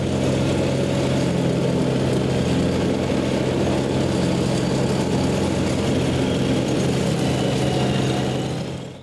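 A lawn mower engine with very blunt blades runs steadily and loudly throughout, a constant close drone with no talking over it.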